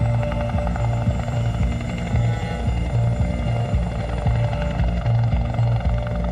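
A helicopter's rotor thumps rhythmically and loudly over a logged forest, its engine droning steadily overhead for the whole stretch.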